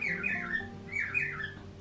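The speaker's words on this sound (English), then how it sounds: "of course I'm talking, so my bird is too" A pet bird lets out two loud, rising and falling squawks in quick succession, close by, over faint background noise.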